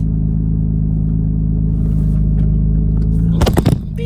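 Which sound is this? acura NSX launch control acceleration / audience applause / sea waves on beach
acura NSX launch control acceleration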